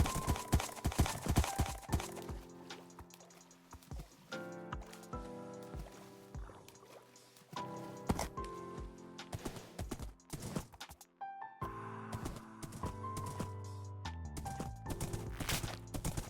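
Rapid hoof clops in a video game, layered over busy background music and effects, with no voices.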